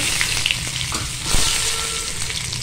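Chillies frying in a pan for egg and potato mash, a loud constant crackling sizzle close by, with a few light stirring knocks and one brief scrape mid-way.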